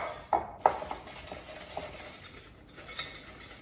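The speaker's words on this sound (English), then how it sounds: "I'm going to start by whisking the butter and the sugars together just until they're mixed together" Butter and sugars whisked together for blondies, giving a few sharp clinks of the whisk against the bowl over a soft, steady scraping, close and moderately loud.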